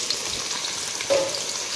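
Onions lightly frying in a pan, a steady close sizzle with a brief scrape of stirring partway through, no voices.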